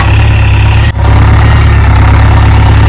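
A JCB excavator's ten-year-old engine idles loudly at close range, a steady deep rumble with a brief dip near the start before the drone continues unchanged.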